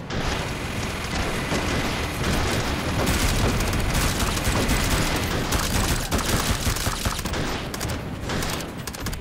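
Dense, continuous gunfire from the VR shooter Hot Dogs, Horseshoes & Hand Grenades, rapid overlapping shots and booms filling the whole stretch at steady high loudness.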